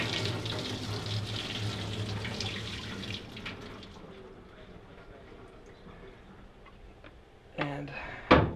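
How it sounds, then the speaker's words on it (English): Water from an RO unit's carbon filter housing is poured out into a sink, a steady splash running for about three seconds and then thinning to a faint trickle, with a few sharp knocks near the end. "going to empty out the water."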